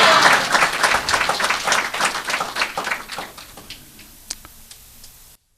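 Church congregation at a Hindi-language sermon clapping and calling out, loud dense applause with scattered voices that thins and fades over the last seconds, leaving a few isolated claps.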